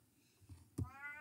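A cat meows once, fairly close, a short rising call after a faint earlier murmur, in an otherwise quiet indoor room.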